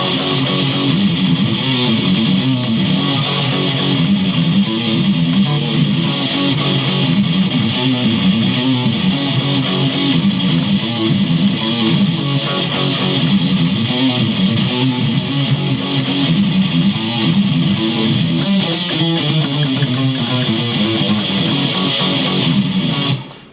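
Electric guitar plays a rhythm riff at full speed, a dense, loud, continuous distorted chug running unbroken for over twenty seconds before stopping abruptly, with no talking.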